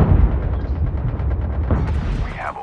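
Bomb blast in a battle royale video game, a loud booming explosion with rumbling low end that decays over a couple of seconds, followed by faint crackling game effects.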